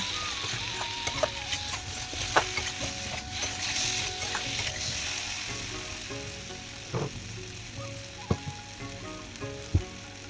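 Spices and chopped tomatoes being sautéed in a pan for a fish curry, with a soft continuous sizzle and sharp clinks of a spoon scraping and striking the pan at irregular intervals.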